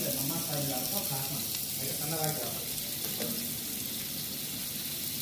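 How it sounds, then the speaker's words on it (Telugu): Finely chopped onions frying in a pan for sambar, a steady moderate sizzle throughout, with faint voices and kitchen clatter in the background. "సన్నగా తరిగిన ఉల్లిపాయలని వేసి దాన్ని ఇంకా ఫ్రై చేయాలి."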